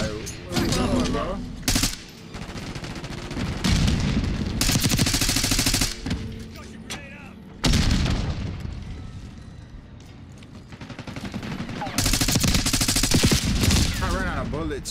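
Heavy firefight in Black Ops 6: sustained loud bursts of automatic gunfire in several long volleys separated by brief lulls, with booming blasts mixed in throughout.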